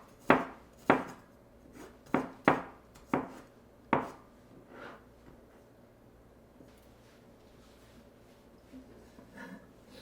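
A knife slices garlic thinly on a cutting board, giving a run of about eight sharp, close chops in an uneven rhythm. Quieter scrapes and taps follow in a calmer stretch, with no talking.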